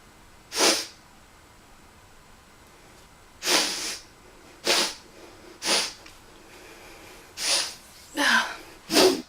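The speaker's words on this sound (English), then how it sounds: "the person next to you just starts sniffling at the quietest moments" Seven short, sharp nasal sniffs or snorts spaced irregularly, close and fairly loud against a quiet background, with no talking.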